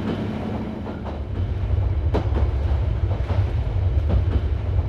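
Mainline train wagons roll on rails carrying a transport container toward an underground disposal facility, a steady low rumble with intermittent clanks and clicks from the wheels, close and continuous.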